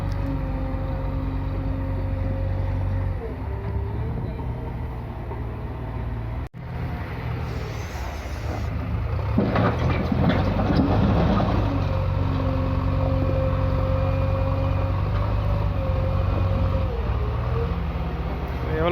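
A 50 hp JCB front loader engine lifting a full bucket load, heard close as a loud, steady diesel drone whose pitch dips briefly, then turns heavier and rougher under strain partway through before settling back.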